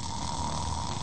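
A voice imitates snoring in a church sermon setting, giving one brief, rough, breathy snore that fills the whole moment at a steady level.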